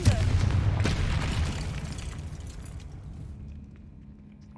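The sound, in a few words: Confringo fire explosion spell in video game Hogwarts Legacy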